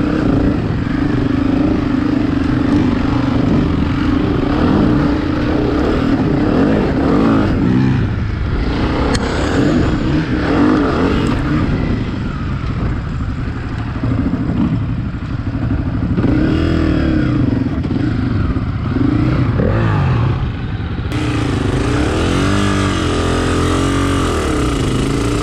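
Dirt bike engine revving and droning continuously on a muddy motorcycle trail at Croom Motorcycle Area, loud and close throughout, with pitch rising and falling as the rider accelerates and eases off.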